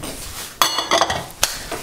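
Lemon cake batter with melted butter being stirred in a bowl: a few distinct clinks and scrapes of a utensil against the bowl, close and moderately loud, with quiet pauses between strokes and no talking.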